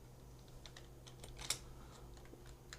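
Quiet typing on a computer keyboard, a run of soft, irregular key clicks with one slightly sharper tap midway, heard alone over a low steady room hum.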